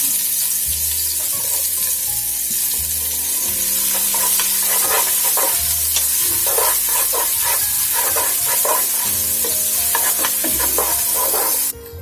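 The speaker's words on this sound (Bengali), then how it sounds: "একটা মিডিয়াম সাইজের পেঁয়াজ কুচি দিয়ে দিলাম" Chopped onion sizzling in hot oil with spices in a pan, a loud continuous fry with repeated scraping stirs of a spoon, a low background tone beneath, no talking.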